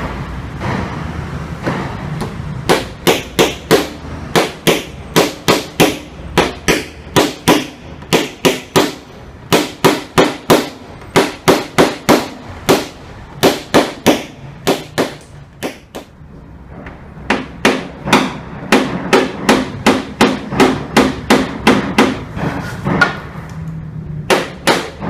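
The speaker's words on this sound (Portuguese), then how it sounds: "agora eu vou utilizar um pino de acrílico, que ele tem a ponta um pouco mais resistente, menor" Rapid tapping of a hammer on an acrylic pin works out a dent in a car hood, bursts of crisp close knocks in quick series separated by short pauses, with no speech.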